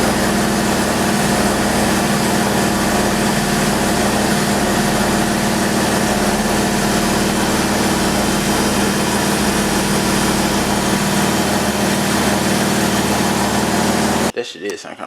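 Car engine fitted with an 80mm throttle body and no tune, idling rough just after crank-up; a loud, steady droning hum runs close and continuous before cutting off abruptly near the end.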